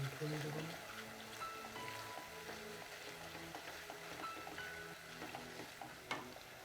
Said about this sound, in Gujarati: રેડ ચીલી સોસ અને લાલ મરચું બધું બરાબર મિક્સ કરી લઈશું આ રીતે